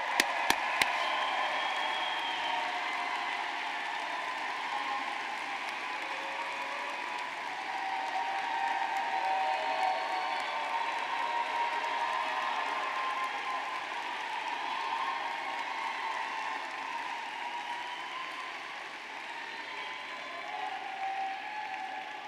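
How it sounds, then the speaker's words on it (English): Sustained applause from a commencement audience for a graduating law school class, a broad, even wash of clapping that holds steady for a long stretch. It sounds distant and fairly quiet, with no talk over it. "I think we need one final round of applause for the class of 2021."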